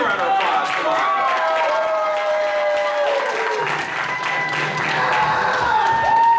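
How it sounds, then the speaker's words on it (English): An audience at an anime convention game show claps and cheers loudly and continuously, with whoops and shouting voices rising over the applause throughout. "Let's give a round of applause."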